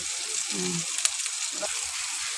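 Crab fries in oil with a steady, bright sizzle, and green chilies added to the pan bring a brief crackle and a few soft clinks, all close and continuous with no talking.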